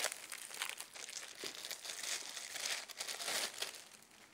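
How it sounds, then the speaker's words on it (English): Plastic bag crinkles and rustles steadily for a few seconds as it is pulled off a new filter cartridge for a Jupiter Orion JP-109 water ionizer, close and quiet with no talking. "Remove the bag."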